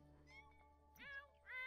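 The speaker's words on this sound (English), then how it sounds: "Why are the kittens upset?" Kittens in The Sims 4 give a few faint, plaintive meows in quick succession, rising and falling over a quiet low game hum.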